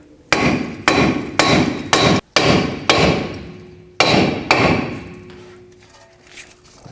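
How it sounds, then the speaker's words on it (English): A hammer strikes a rusted, stuck front brake rotor between the wheel studs on a 1997-2004 Dodge Dakota, eight loud close metallic blows at a steady pace, each ringing briefly, then quiet. "you can take a hammer and hit in between the studs"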